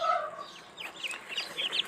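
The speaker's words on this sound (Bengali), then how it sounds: "এটা কিন্তু ব্রাহ্মা মুরগির বাচ্চা।" Newly hatched Brahma chicken chicks give a run of thin, high peeps that come in quick, rising bursts close by, after a brief lower call at the start, with no talking.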